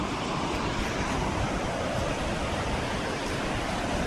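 River rapids rushing through Johnson Canyon, a steady dense roar of flowing water that stays loud and unbroken, close by with no voices.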